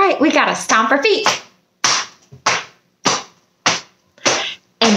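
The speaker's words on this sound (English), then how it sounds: "All right, we gotta stomp our feet." Feet stomp on a floor during a children's sing-along, six sharp separate thuds about half a second apart that follow a brief sung phrase.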